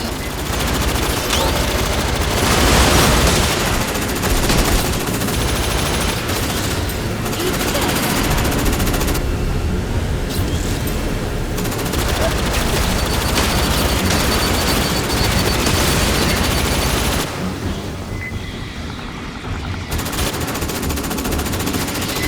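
Sustained automatic gunfire pours at xenomorph aliens in the Aliens: Fireteam Elite video game, loud rapid bursts with booming impacts, brief pauses, and game voices mixed underneath.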